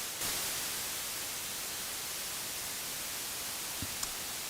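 Steady hiss from the noise generator of a vintage Kawai synthesizer, an SX-240 or K3, a flat broadband static that holds evenly throughout, moderately quiet and alone.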